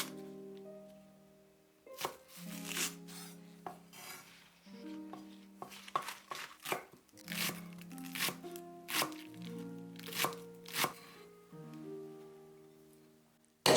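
Spring onions being chopped with a knife, a run of crisp, evenly spaced chops over steady background music.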